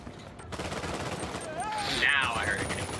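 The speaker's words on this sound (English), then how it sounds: "Now I heard a grenade." Rapid gunfire crackles in the Uncharted 4 video game, with a grenade explosion swelling near the end amid the shooting and whooshing effects.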